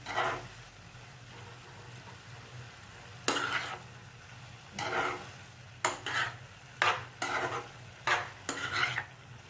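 A spoon stirs grated carrot halwa in a pan with a faint sizzle underneath, making a series of close scraping strokes that become quicker and more regular toward the end.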